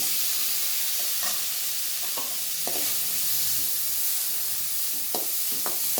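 Paneer frying in ghee with salt and turmeric on a low flame gives a constant, close sizzle, with occasional stirring scrapes and clinks against the pan and no speech.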